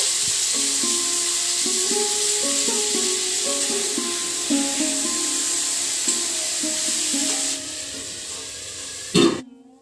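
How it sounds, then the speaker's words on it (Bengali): Ivy gourd and potato fry in shallow oil with cumin and dried red chilli, giving a steady close sizzle and crackle, with occasional utensil clinks and a sharp knock near the end. "এখন কুঁদরি আর আলু ভাজা করছে"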